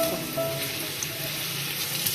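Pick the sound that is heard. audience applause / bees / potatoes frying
potatoes frying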